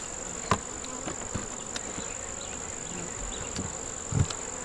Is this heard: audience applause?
no